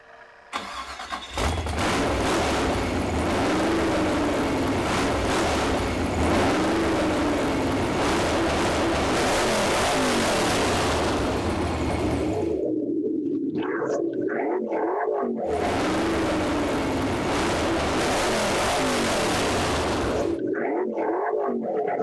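A 1986 Ford Thunderbird with a 302 V8 cranks, catches and roars into loud, sustained revving that rises and falls in long surges, then drops briefly to idle before climbing again, close up with no talk.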